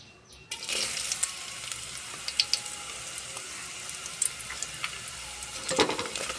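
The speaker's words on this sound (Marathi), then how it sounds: "आता मी कांदा लसूण घालून चांगला परतून घेणार" Onion and garlic sauté in hot oil, a soft steady sizzle that starts abruptly after a brief quiet moment and continues with scattered crackles and light stirring, fairly faint and close.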